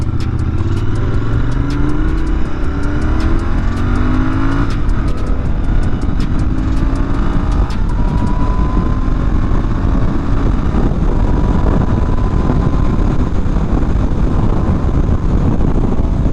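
A Royal Enfield Interceptor 650 motorcycle rides along a country road, its engine droning loud and steady throughout with shifting pitch and wind rush as it travels.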